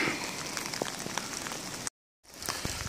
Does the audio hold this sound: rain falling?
yes